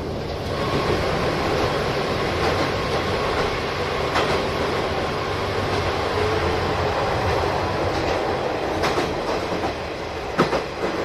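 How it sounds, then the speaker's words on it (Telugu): A passenger train runs through a series of hill tunnels, its steady wheel rumble and rail clatter continuous and close, with a few sharper knocks near the end. "ఇలా వరుసగా ఒక 5-6 టనల్స్ నుంచి అయితే మన ట్రైన్ వెళ్తుంది."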